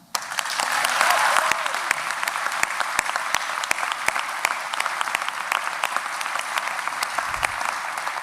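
Audience applause at a film premiere: a dense, sustained wash of clapping from a crowd indoors, steady for several seconds with a few sharper individual claps standing out, and no voices over it.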